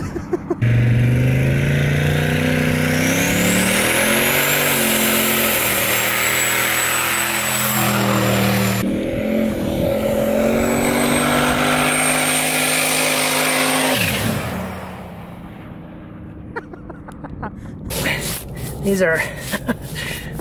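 A turbocharged LS-swapped 4x4 Ranger with a 4L80E transmission accelerates hard on ice, its engine note climbing through rising, shifting revs over a long pull before backing off into sharp, choppy bursts near the end.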